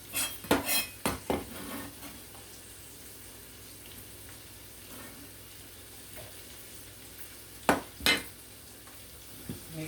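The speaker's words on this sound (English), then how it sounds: "Cut up a few pieces of bacon and put it in there." Bacon pieces drop into a hot pan and start cooking, with a few sharp clatters of utensil on pan at the start and again near the end over a quiet, steady background.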